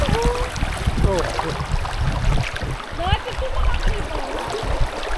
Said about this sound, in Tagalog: Malakas yung agos ha.